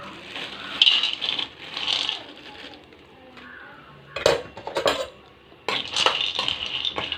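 Peanuts being dry-roasted in a pan for peanut candy, giving bursts of rattling, scraping clinks as they are stirred and tossed, with quieter gaps between the bursts.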